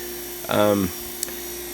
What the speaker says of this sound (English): You can hear the vacuum pump still running there.